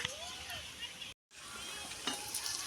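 Potatoes fry in oil in a pan, giving a soft, steady sizzle with faint stirring scrapes, briefly cut out midway, and a few sharper clinks near the end.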